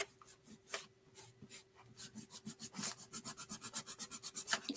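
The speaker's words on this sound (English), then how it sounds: "And I'm just going to erase" Kneadable eraser rubbing graphite off paper, a run of quick rhythmic scrubbing strokes that grow steady and regular in the second half, close and quiet with no talk.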